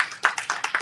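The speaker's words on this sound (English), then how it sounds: "Give Tom a round of applause there for leading that discussion." Several people clap for a discussion leader at a foundation and association meeting, a short burst of separate, fairly loud claps that sound like a small group rather than a full crowd.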